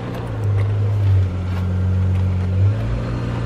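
A 2000 Isuzu Rodeo's 3.2 liter engine idling during a transmission check at a salvage yard, a steady low hum that swells briefly twice as the revs rise and fall, close and fairly loud.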